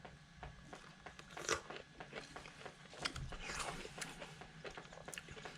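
Someone bites and chews a juicy Hallabong mandarin citrus, giving a series of close, moist crunching and smacking bites at an uneven pace, with no talking.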